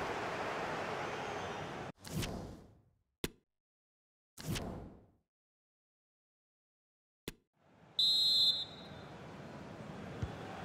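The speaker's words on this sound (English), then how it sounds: "there it is, the halftime whistle" A referee's halftime whistle in a FIFA 23 football match against West Ham, one short sharp blast standing out over a busy stadium crowd bed that returns after a brief gap.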